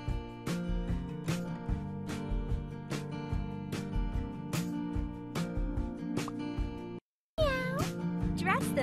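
Cartoon cat meows sound in a kids' cat hair salon birthday party game, repeated loud meows over steady, bouncy game music, with a short gap and then a rising, warbling sound effect.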